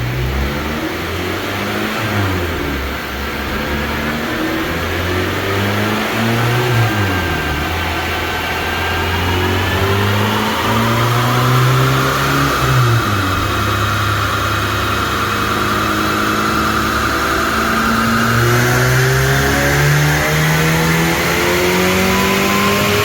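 A supercharged 9th-generation Honda Civic Si engine on a dyno revs repeatedly, rising and falling in loud, throaty sweeps before holding a high, steady whine.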